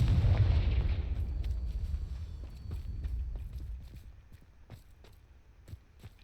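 Fire spell explosion in Hogwarts Legacy: a loud, deep blast at the start that rumbles and fades over several seconds, followed by scattered sharp clicks and small impacts, with no talk.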